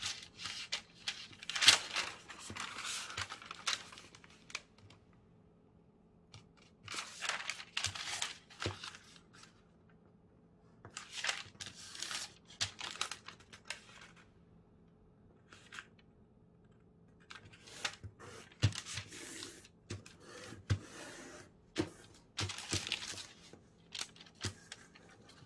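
Paper is folded by hand for an origami Avatar Ikran (Toruk Makto), producing quiet, close bursts of crinkling and rustling with creases pressed down in intermittent clusters separated by near-silent pauses.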